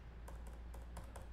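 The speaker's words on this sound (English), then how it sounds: "type out shirts there, hit go" Quick light keystrokes on a computer keyboard as a short search word is typed, a handful of soft, close taps in an uneven rhythm over a quiet background.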